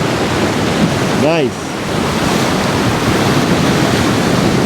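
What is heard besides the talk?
ocean waves breaking with body surfers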